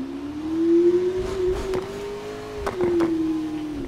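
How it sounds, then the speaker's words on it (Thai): A McLaren P1 in Need for Speed Heat revs its exhaust, a steady droning tone rising and settling with a few sharp throttle blips and crackles, loud and close with no talking. "ชอบเสียงท่อว่ะ"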